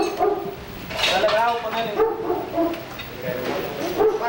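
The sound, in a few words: small dog barking and whimpering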